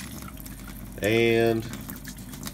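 Water poured onto hands for washing while camping: a short, bright half-second gush of pouring water, fairly close, with someone talking quietly before and after.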